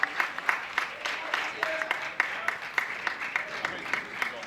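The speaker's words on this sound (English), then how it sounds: "Get a round of applause from everybody in the stadium here." Stadium crowd at a Burton Albion versus West Bromwich Albion football match applauding the departing captain, scattered distant clapping with sharp individual claps, under quiet commentary talk.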